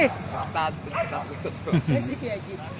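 Dogs bark and yelp excitedly in quick bursts, close by, with people talking over them.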